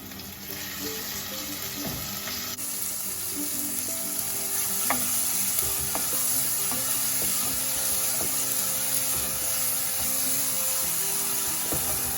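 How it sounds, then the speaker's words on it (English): A chopped chili sizzles steadily in a hot pan with tomato for a lentil soup, a dense continuous frying hiss with occasional light clinks of stirring, close and alone. "Just fry it maybe for 2 minutes and it's ready."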